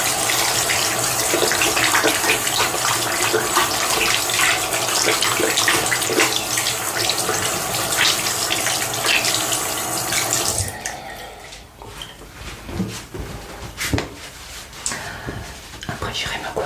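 Tap water running steadily into a sink while a face is rinsed during an evening skincare routine, a constant close gush that cuts off partway, followed by quieter splashes and handling sounds.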